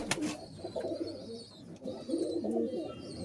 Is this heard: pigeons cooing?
yes